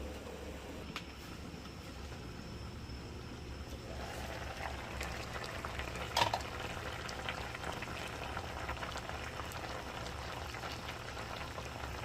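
Okra and eggplant simmer in a pot of boiling water, giving a steady, close bubbling and sizzling wash throughout with no talk.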